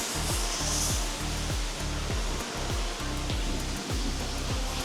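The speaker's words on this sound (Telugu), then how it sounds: "చాలా వాటర్ ఫాల్స్ చూసా కానీ ఇంత క్లీన్ వాటర్ ఫాల్స్ మేఘాలయలోనే చూస్తున్నా." A clean three-step waterfall in Meghalaya roars as dense, steady rushing water, loud and close, with a faint repeating low thump underneath.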